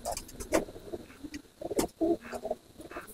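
Pigeons in a loft at night give soft, low coos in short intermittent bursts, fairly faint, with a light background hum and no talking.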